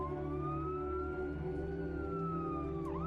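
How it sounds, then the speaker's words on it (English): Ambulance siren wailing at night outside a crowded hospital, a steady rising and falling tone over a continuous low vehicle rumble, fairly close and sustained throughout. "as night falls, the ambulances are stacking up one after the other"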